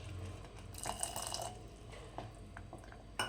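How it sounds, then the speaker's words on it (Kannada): Hot water poured into a pot while cooking sweet kodo millet pongal, a faint splashing pour with a few drips and clinks, quiet and close, with no talking. "ಸ್ವಲ್ಪ ಬಿಸಿನೀರು ಹಾಕ್ಕೋಬೇಕು"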